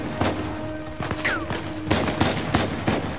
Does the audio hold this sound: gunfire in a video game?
yes